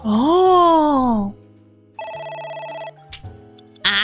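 Phone ringing in the video game AI: The Somnium Files: a loud, wavering electronic tone is followed by a steadier, quieter ringtone-like pattern of repeated beeps, with a brief sharp blip near the end.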